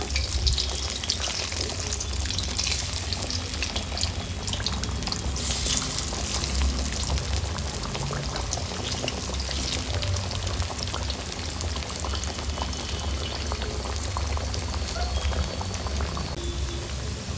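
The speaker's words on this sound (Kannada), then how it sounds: "ಇವಾಗ ಹಾಗಲಕಾಯಿನ ಹಾಕ್ಕೊಳ್ಳೋಣ. ಕ್ರಿಸ್ಪಿಯಾಗಿ ಫ್ರೈ ಮಾಡ್ಕೊಳ್ಬೇಕು." Bitter gourd slices frying until crisp in hot oil, a dense, steady bubbling hiss that stays loud and even throughout with no voices.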